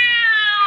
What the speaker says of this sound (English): the cat screamed and leaped against the wall